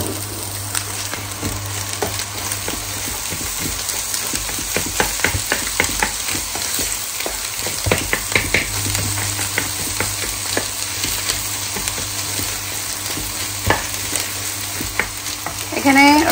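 Vegetables stir-fry in a pan in a home kitchen, a loud continuous sizzle with frequent clattering scrapes and taps from the stirring spoon; no talk.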